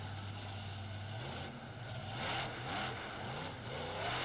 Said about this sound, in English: Those cars are taking a tremendous beating as the drivers drive the 5-ton trucks over them.